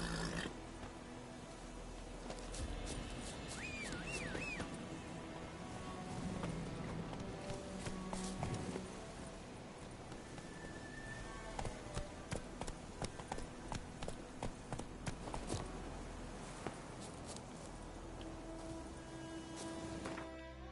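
Horse hooves clip-clopping at a steady run in The Witcher III, a rhythmic patter of footfalls over game music and ambient sound, with no talk.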